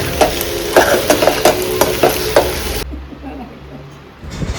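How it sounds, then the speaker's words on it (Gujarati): Sabudana khichdi being stirred in a pan, a run of sharp rhythmic spoon scrapes and clinks over a steady sizzle, close and loud, then stirring stops and only a faint hum remains. "આપણે સાબુદાણા નાખી દીધા છે, હવે આપણે એને હલાવી લેશું।"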